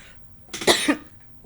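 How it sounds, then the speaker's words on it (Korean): A single cough, sharp and close, breaking a quiet stretch before falling silent again. "죄송합니다. 기침이 나와서요."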